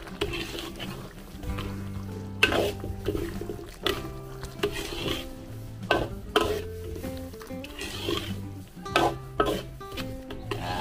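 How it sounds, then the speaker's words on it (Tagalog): A spoon stirs kaldereta in a pot after bay leaves have gone in, giving repeated rasping scrapes and soft clunks against the metal in an uneven rhythm, close and moderately loud. "haluin lang po natin"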